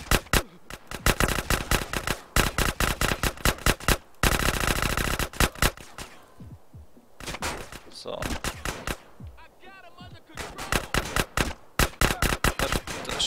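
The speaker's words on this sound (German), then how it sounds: "Hörst du auf mit Schießen?" Rapid video game gunfire in GTA San Andreas, bursts of close, sharp automatic shots in quick strings broken by brief pauses and scattered single cracks, with faint talk now and then.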